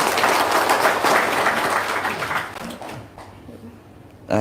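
An audience at a testimonial gathering breaks into applause, dense clapping for a few seconds that thins and fades, with a voice and a sharp noise at the end.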